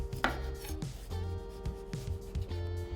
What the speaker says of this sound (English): you just wanna work in segments around the melon, making sure you get off that exterior